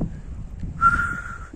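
A person outdoors attempts to whistle, producing one short, thin, breathy tone under a second long, set against low rumbling wind noise on the microphone.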